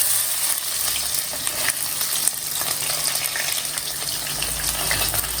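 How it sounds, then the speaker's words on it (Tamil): Onions, green chilies and curry leaves fry in hot oil for a fish curry, producing a dense, even sizzle and crackle that fills the whole stretch without any voices. "கருவேப்பிலை பச்சை மிளகாய் இப்போ போட்டுருக்கேன்"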